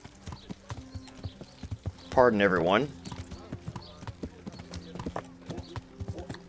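Horse hooves clip-clop at a steady trot in Kingdom Come: Deliverance, running close and continuous through the whole stretch, with a brief whinny partway in and a short spoken line from a voice.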